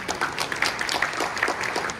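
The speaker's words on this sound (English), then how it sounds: "So a big round of applause to all of you this evening" An audience at the Tatler Ball in Singapore applauds, a brief burst of dense, steady clapping from many hands.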